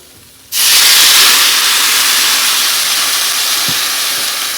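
Water poured into a hot pan of fried quinoa meant for khichuri, bursting suddenly into a loud, close, sustained steam hiss that holds strong and fades only slightly to the end.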